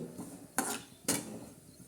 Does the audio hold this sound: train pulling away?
no